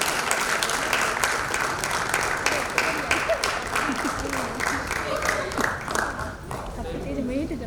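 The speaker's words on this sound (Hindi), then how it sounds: "महाराजा पुष्पराज सिंह जी को स्वागत करें, बुके से स्वागत करते हुए और जोरदार तालियों से हम स्वागत करें।" An audience at a theatre event in India claps warmly to welcome a guest on stage, the applause steady and moderately loud, with voices murmuring underneath before it tapers off toward the end.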